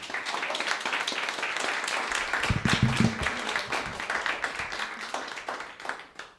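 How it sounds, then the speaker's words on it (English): An audience at an open mic story night claps, a moderately loud burst of many hands with distinct individual claps, swelling briefly in the middle before thinning out and fading toward the end. "Another applause, please."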